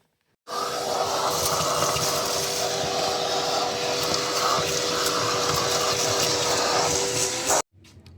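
A vacuum cleaner cleans the interior of a 1982 Honda Civic wagon, running as a loud, steady roar with a faint hum and scraping nozzle movements that stops abruptly near the end.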